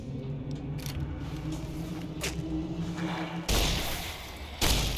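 Gunfire from Fallout: New Vegas, modded, gives two sharp loud bursts near the end, following a stretch of low rumbling game ambience.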